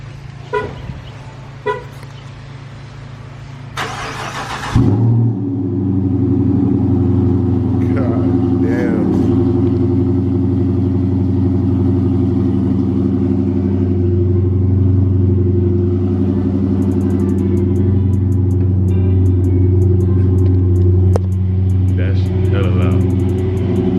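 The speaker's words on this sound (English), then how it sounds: "That cold start crazy." A 2018 Dodge Charger with Super 10 mufflers and a resonator delete fires up cold after a brief crank and settles into a loud, rumbling idle with a throaty exhaust drone, a horn-like toot near the start.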